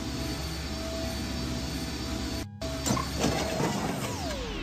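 Engine wiring short-circuiting in the game I Have No Mouth, and I Must Scream: a steady mechanical drone cuts out abruptly, then returns with crackling bursts and a falling whine as the machinery fails, with no voices.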